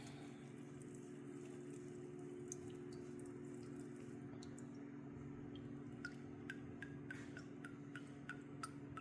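Infused oil draining in a quiet room, heard as faint drips and small ticking drops over a low steady hum, the drips growing more frequent toward the end.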